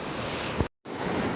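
Ocean waves wash onto the shore during a typhoon, a dense roar of surf and wind noise that cuts out briefly before the rush resumes, with no talk.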